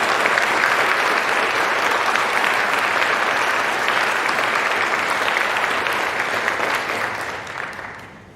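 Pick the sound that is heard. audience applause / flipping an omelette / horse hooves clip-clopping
audience applause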